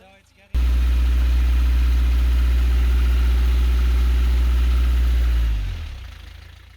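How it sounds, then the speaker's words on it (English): A boat engine, freshly serviced after several oil changes, runs at a loud, steady idle with a deep, even drone that starts abruptly and then winds down and fades near the end. "The engine runs smoothly and there aren't any new noises to worry about."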